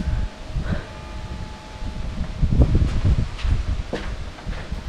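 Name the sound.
strong wind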